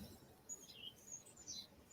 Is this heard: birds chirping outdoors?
yes